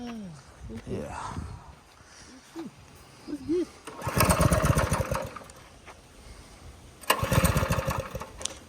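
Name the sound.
go kart engine running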